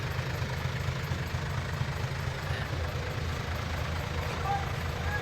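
A container van truck with a non-turbo RO6 engine idles with a steady low rumble, close and constant, while someone talks over it.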